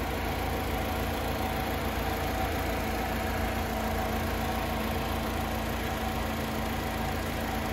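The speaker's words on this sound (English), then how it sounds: "I'll let you guys hear the engine running" A 2008 Chevy Cobalt LT engine idles with a steady, even low rumble throughout, with no other sounds.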